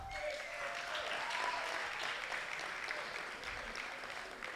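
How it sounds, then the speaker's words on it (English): An audience claps for a young lady being honoured at a rebranding event, with dense applause holding steady and fairly loud throughout before tapering slightly at the end. "Can we clap for her?"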